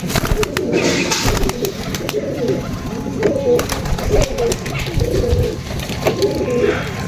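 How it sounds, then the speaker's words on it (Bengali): A pigeon with striking red eyes coos repeatedly in low throaty calls close by, with rustling and handling noises and occasional voices in the background. "ছেড়ে দেয় বন্ধুরা পায়রাটা"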